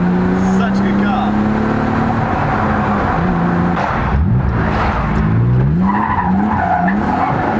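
An engine-swapped BMW E36 Compact chirping and squealing its tires, with rising engine revs through repeated short bursts, loud and close outdoors while people talk nearby.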